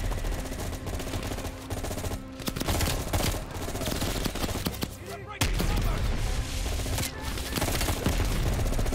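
Sustained gunfire from an M16 and other weapons in a Call of Duty: Black Ops Cold War campaign battle set in Vietnam, loud rapid bursts and volleys filling the whole stretch with a brief lull near the middle.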